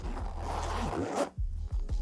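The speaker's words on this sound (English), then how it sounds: "the zips also feel really high quality" A zipper on a Bellroy Toiletry Kit Plus bag is pulled in a long, close, scratchy run, then followed by a few short quick tugs.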